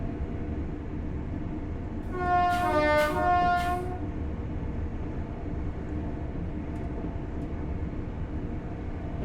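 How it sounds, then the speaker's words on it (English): A loud two-tone horn of a Class 801 Azuma electric train blares for about two seconds over a steady rumbling rail background, then fades back into the running noise. "the horn is realistic and sounds like it was recorded off a real 801"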